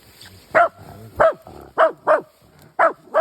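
A dachshund tracking dog barks sharply and loudly at close range, six separate barks spaced roughly half a second apart, each clear and unaccompanied by talk.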